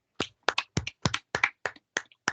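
A few sharp, isolated hand claps in an irregular, loosely paired rhythm, close and clean against silence, given on a call-in sports show in tribute to Roberto Clemente.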